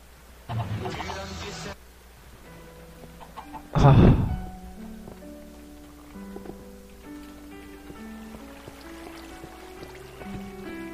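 A Minecraft chicken clucks and squawks in two short bursts, the second louder, over soft game music with scattered plucked notes; no one speaks.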